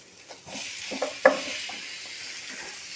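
Spices being stirred into a fish curry in a hot pan, a soft continuous sizzle with a few light scrapes and one sharp clink of the spoon, quiet and close, no talking.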